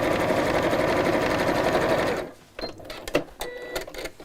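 Sewing machine top stitching, running at a steady fast whir for about two seconds, then stopping, followed by quiet clicks and fabric handling.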